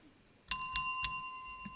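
Three bright chimes from a Chrysler in-dash bell system ring in quick succession, clear and close, then fade into a quiet tail with a soft fourth tap.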